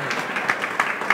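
Audience applause at a public talk, a brief burst of scattered claps at moderate distance filling about a second.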